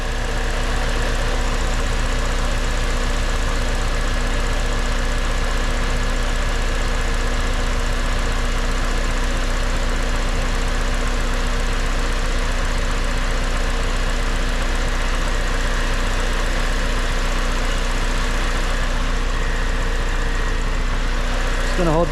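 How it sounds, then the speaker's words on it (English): A K-swapped EM2 Honda Civic engine idles steadily with its AC compressor running, a constant loud hum with a droning tone, close by and unbroken throughout, with no talking. "There, the compressor just kicked on."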